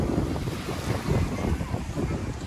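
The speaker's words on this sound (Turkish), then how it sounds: "bugün biraz rüzgarlı, biraz dalga var" Wind buffets the microphone with a rough, continuous roar as sea waves wash in underneath at a beach in Yalıçiftlik, Bodrum, loud and close throughout.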